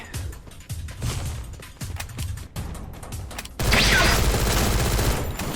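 Bursts of enemy gunfire in the mobile shooter Free Fire, several short volleys in the first half followed by a loud, dense stretch of rapid fire and crashing noise near the end.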